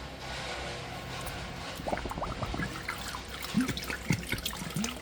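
Boysenberry syrup glugs and trickles from a bottle into a large fruit mash, a close wet pouring with bubbly gurgles and splashes over a steady background hiss.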